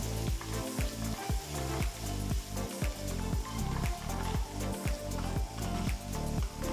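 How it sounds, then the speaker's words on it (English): Chopped garlic, ginger, green chilies and onions sautéing in a pan, a loud continuous sizzle and crackle with rhythmic scraping strokes of a spatula throughout. "Sauté the ingredients for just about 2 to 3 minutes."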